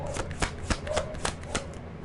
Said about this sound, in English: Let's get an oracle card for you for Scorpio